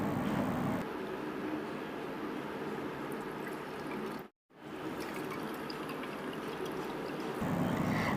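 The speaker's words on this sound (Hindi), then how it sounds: "अब मैं इसका पानी निकाल दूँगी।" Water being squeezed from a slice of brown bread soaked briefly for Hyderabadi dahi baray, a steady close wet trickling and dripping with a short pause midway.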